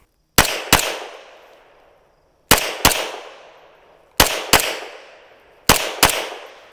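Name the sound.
gunshots fired at targets during shooting drill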